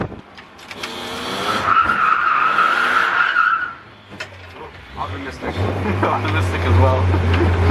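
Car drifting through a turn at a drift practice, tires squealing in a long loud skid with engine roar that drops away, then a low engine drone picks back up; people talk briefly over it.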